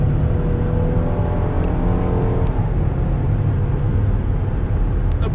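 A 2020 Hyundai Palisade Limited AWD SUV accelerates, heard from inside the cabin: a steady engine drone and road roar that build a little with mild wind noise, with no talk over it.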